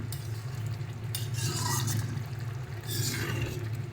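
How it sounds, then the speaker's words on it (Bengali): A spoon stirs chana paneer curry in a pan after garam masala goes in, making soft scraping and faint clinks over a low simmering hiss. "গরম মশলাটা দিয়ে এটাকে ভালো করে মিশিয়ে নেব।"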